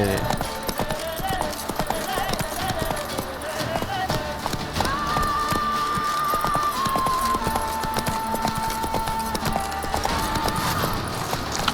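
Horse hooves clip-clop steadily at a gallop in The Witcher 3, the rhythmic footfalls running throughout over game music, with someone talking over part of it.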